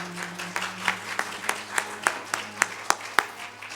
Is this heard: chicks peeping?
no